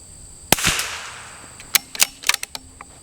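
A CZ 457 rimfire rifle with a 26-inch Lilja barrel, firing Eley Team ammunition at a range, cracks once sharply and close, then a quick cluster of lighter metallic clicks follows.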